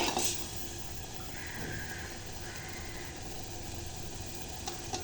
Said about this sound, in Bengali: ডাল ফুটে এসেছে।